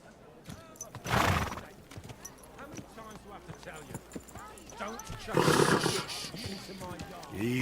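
A horse in the medieval video game Kingdom Come Deliverance clip-clops along a path and whinnies loudly twice, with someone talking over the steady hoofbeats.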